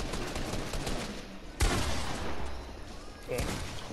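Rapid gunfire in the video game Fortnite crackles in bursts, with a sharp shot standing out midway, under excited talking.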